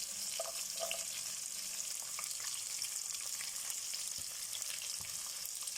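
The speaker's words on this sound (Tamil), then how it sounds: "நம்ம தட்டி வச்சுருக்க பச்சை மிளகாய், பூண்டு இதெல்லாமே நல்லா வதங்கட்டும்" Green chillies and garlic fry in oil for a wedding-style sambar with a soft, constant sizzle and a few faint stirring clicks. It is moderately quiet, with no talking.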